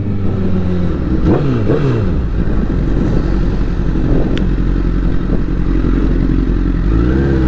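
Motorcycle engine droning loudly and close while riding, with rising and falling revs under steady rushing wind and road noise.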